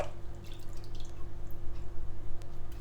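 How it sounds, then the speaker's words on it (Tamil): Bitter gourd pieces being washed by hand in salted water, with steady soft dripping and gentle splashing close by over a low background hum. "இந்த நாங்கள் உப்பு தண்ணியிலேருந்து இந்த பாவக்காயை நல்லா வடிவாக இருக்கா இந்த தண்ணியிலேயே கழுவி போட்டு எடுத்துக்கொள்வோம்"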